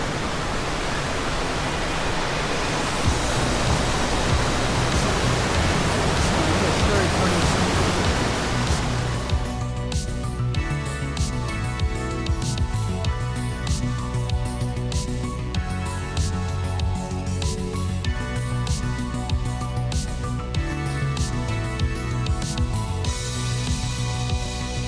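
Waterfall on a mountain trail in the Dolomites, a loud, steady broadband roar that dominates the first half, then continues as a softer rush beneath tonal sounds and light clatter.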